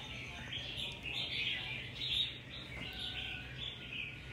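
Red-whiskered bulbul calling repeatedly, bright chirps and short whistled phrases at moderate distance over a steady background hum, with no speech.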